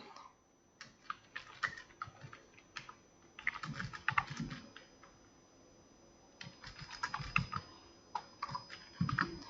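Fingers type steadily on a computer keyboard in a quiet room, with irregular bursts of soft clicking keystrokes separated by short pauses.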